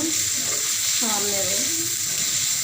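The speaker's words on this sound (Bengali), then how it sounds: "কিছুটা লবণ দিয়ে দেবো পেঁয়াজটা তাড়াতাড়ি ভাজা হওয়ার জন্য" Onion frying with salt in a pan makes a soft, steady sizzle close by, while a voice talks briefly over it.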